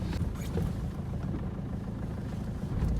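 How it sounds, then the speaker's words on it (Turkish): Old diesel engine of a Ford Fiesta or Hyundai Getz idling just after starting, a steady, loud, close rumble with even low clatter and no talk. "Eski zamanın dizeleri bir tık da şey çalışıyor, böyle sesli çalışıyor."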